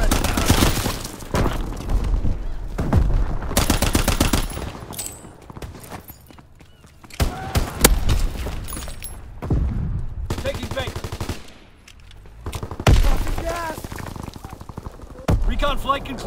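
Gunfire in Call of Duty WWII, loud bursts of shots and booms mixed with game effects and a radio-style voice, scattered through a busy soundscape.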